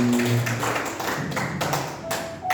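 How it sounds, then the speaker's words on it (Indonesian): Applause from the audience at a school module dissemination session, a dense, steady wash of clapping that fills the short moment with a faint voice briefly underneath. "Tepuk tangan untuk kita semuanya"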